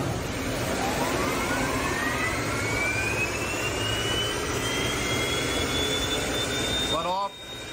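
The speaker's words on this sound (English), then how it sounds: "This vehicle was brought in as the customer says they have transmission issues, and it sounds like an airplane taking off." A car with a faulty transmission roars like a jet taking off, with a loud, continuous whine that climbs steadily in pitch over several seconds before the sound abruptly drops away near the end.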